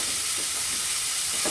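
Onions hit a pan of fried cumin and garam masala with a loud, continuous hissing sizzle, broken by a few soft stirring scrapes.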